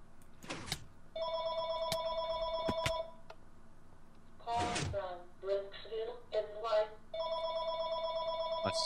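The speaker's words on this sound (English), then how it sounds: "Oh, and of course my phone goes off right when I start to record." A mobile phone rings in repeated bursts of steady electronic tone, loud and close, with a person talking briefly in the pause between rings.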